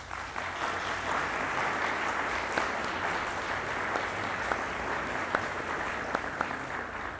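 Audience applause at a televised talk show fills the room as a dense, steady roar of clapping from a large crowd, with a few sharper individual claps standing out near the end.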